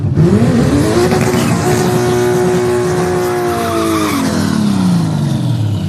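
A hot rod drag racing car launches down a quarter-mile strip, its engine roaring loud and close with a rising then falling tone and tire squeal throughout.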